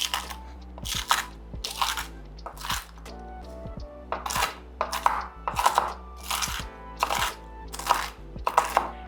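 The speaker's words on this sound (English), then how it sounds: "I'm also gonna do a rough chop for the bacon." Knife rough chopping bacon on a cutting board, about a dozen crisp, crunchy strokes in uneven bursts with short pauses, close and fairly loud.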